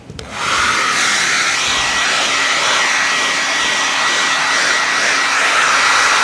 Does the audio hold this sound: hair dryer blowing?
yes